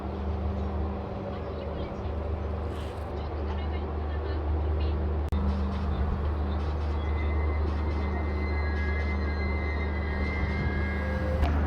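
Interior of a general coach on the Gour Express train running at night, a steady loud rumble and hum of wheels and carriage with faint occasional clanks throughout.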